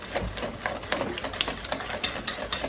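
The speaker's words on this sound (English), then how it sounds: "we're going to whisk that together" A whisk beats a loose flour mixture for cinnamon roll dough in a bowl, giving a fast, steady scraping and rattling rhythm close by with no talking.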